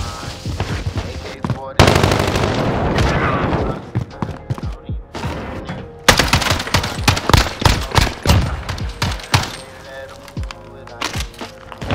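Rapid-fire AUG assault rifle in a Call of Duty Search and Destroy match, with loud bursts of close automatic gunfire and sharp impact cracks separated by short pauses and some overlapping game effects.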